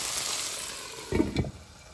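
Chicken breast frying in a pan gives a soft, steady sizzle, then a louder burst of crackling and spattering as the meat is moved around, before it settles back to a quiet hiss.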